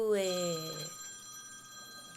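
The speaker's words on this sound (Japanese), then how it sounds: "また電話かかってきた。" A telephone ring sounds during a live singing stream, with a bright, bell-like warble that stops after a moment and leaves a faint hum.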